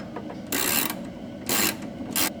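A ratchet wrench tightens the bolts holding a car's rear bumper, with three loud, close bursts of rapid clicking separated by short pauses.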